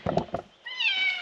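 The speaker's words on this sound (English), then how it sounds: "You're a good barn cat." A barn cat on a homestead gives a single drawn-out, rising and falling meow, close and clear, right after a woman's soft speech.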